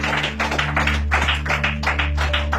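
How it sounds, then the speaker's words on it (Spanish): Church congregation clapping for the Lord during a sermon, a dense, steady wash of many hands filling the room, with a low sustained hum of organ or keyboard underneath. "Denle un fuerte aplauso para el Señor."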